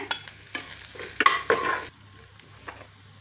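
Ground pepper, cumin, chili and coriander powders roast in a pan and are stirred in a few quick scraping strokes over a faint, close sizzle.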